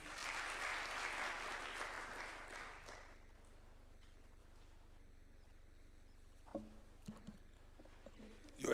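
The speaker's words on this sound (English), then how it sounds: "A clap for him, please." An audience at a State House event in Kenya bursts into loud applause that lasts about three seconds, then fades into a quiet room with a few faint knocks.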